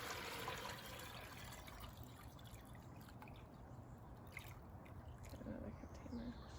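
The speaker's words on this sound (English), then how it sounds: "I'll pour this in here." A stirred mixture of clay and water is poured into a container, a faint, steady trickling and dripping of thick liquid, close and continuous, with a few small splashes toward the end.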